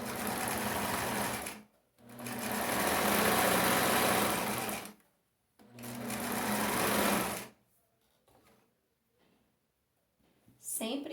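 Sewing machine stitching the hem of a skirt, running in three loud bursts of steady whirring separated by short pauses, then mostly quiet with faint handling sounds.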